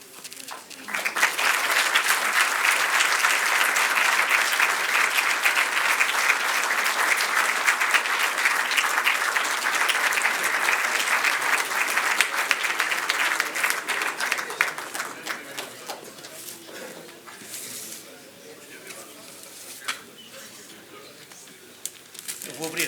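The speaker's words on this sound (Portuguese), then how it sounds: "para a Adelaide uma salva de palmas e um ramo de flores" Sustained audience applause at a formal farewell lecture, loud and dense from the start, holding steady for most of the clip before thinning toward the end.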